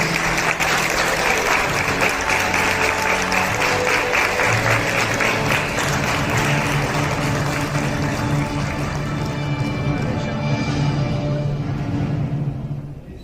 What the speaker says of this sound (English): I request everyone to please give them a thundering round of applause.